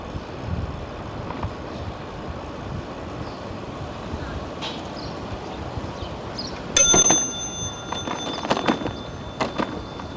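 A bicycle bell rings sharply several times over steady street traffic noise on Madison Avenue, New York City, bright metallic dings repeating close by.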